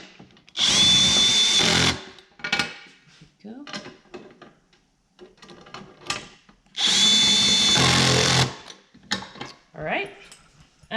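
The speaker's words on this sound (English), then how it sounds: "in order to make sure that it is completely tight, we use a drill" Two long bursts of a power drill whirring as it tightens screws, each about a second or more, with someone speaking briefly between and after them.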